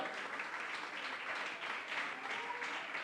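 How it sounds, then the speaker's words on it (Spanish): Church congregation applauding during a Spanish-language Sabbath sermon, a soft, steady wash of many hands clapping, heard from a distance and quite faint, with no clear talk over it. "Denle un aplauso al Señor."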